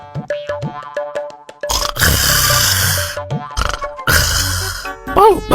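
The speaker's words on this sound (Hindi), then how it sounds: "ये कहकर अप्पू और खोटे उनके अड्डे पर खर्राटे लेते हुए" Two cartoon characters snore loudly in their sleep, with long rasping breaths alternating with comic boing and plop sound effects in a silly, rhythmic pattern.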